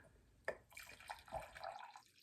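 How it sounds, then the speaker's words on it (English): Hot herbal tea poured into a ceramic mug, a faint splashy trickle starting with a small clink and running steadily for about a second and a half before stopping. "So I'm going to pour it in my Sakura mug from Aegean Goods."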